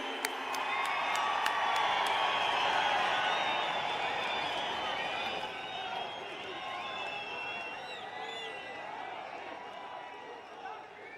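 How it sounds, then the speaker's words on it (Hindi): A large political rally crowd applauds and cheers as the Prime Minister of India arrives at the Palli rally site, a dense, sustained roar of clapping and voices that gradually eases off. "आपकी जोरदार तालियों में माननीय प्रधानमंत्री जी।"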